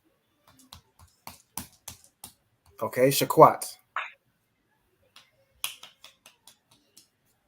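Participants in an online Hebrew class clap their hands in sparse, separate single claps spread through the moment, with a short spoken exchange in the middle.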